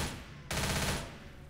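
Gunfire in the Left 4 Dead video game, No Mercy campaign, a dense burst of rapid shots that jumps louder partway through and then fades.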